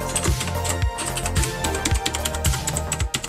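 Keys clacking steadily on an RK Royal Kludge RK84 75% mechanical keyboard, a close, busy run of overlapping keystrokes with a few heavier thocks, no voices.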